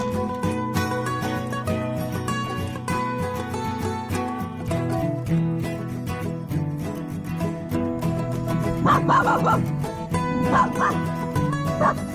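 Dogs at a house-building site in the Philippines bark, yip and whimper repeatedly amid busy, continuous background noise, with brief louder outbursts toward the end.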